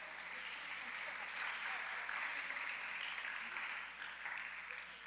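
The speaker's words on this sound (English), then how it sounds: "You can applaud for that." A convocation audience at Annapolis Christian Academy gives a soft, distant round of applause that holds evenly throughout, thin and faint in a large room.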